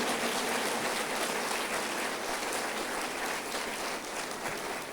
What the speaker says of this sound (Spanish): Dele otro aplauso.